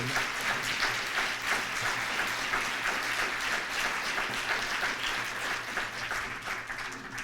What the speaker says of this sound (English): let's give him another big round of applause for the great role